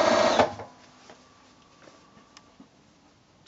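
A sewing machine with a quarter-inch foot runs a short burst along the top edge of a drawstring bag, then falls nearly quiet with only faint clicks and ticks.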